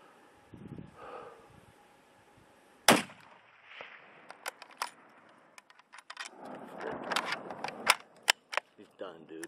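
A single sharp rifle shot cracks out during a mule deer hunt in Arizona's Kaibab, loud against soft wind and low murmured voices, followed by rustling and small clicks.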